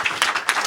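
Brief burst of audience applause at a media breakfast dialogue on tuberculosis, a few loud clap-like bursts in under a second.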